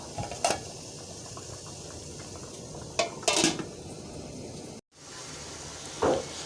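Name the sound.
covering the cooking pot with a lid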